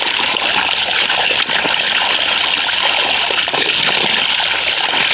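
Borewell water gushes and splashes in a steady, loud stream as two fresh papayas are rinsed in a hillside farm field. The rush continues unbroken throughout, close and without talk.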